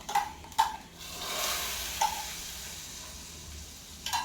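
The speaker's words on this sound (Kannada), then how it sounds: "ಈಗ ನೀವು ನೋಡ್ಬೋದು ಈಗ ದ್ರಾಕ್ಷಿ ಎಲ್ಲನೂ ಹುರ್ಕೊಂಡಿದೆ" Raisins fry in a pan for payasam while a spoon stirs them, sharp taps on the pan over a soft, steady sizzle.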